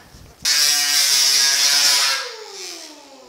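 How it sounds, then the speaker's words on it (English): An electric sander runs hard against the running board of a 1950 Chevy truck, starting abruptly, holding a steady high buzzing whine for under two seconds, then winding down as it spins to a stop. "Let's hit it with sander again, see how it looks."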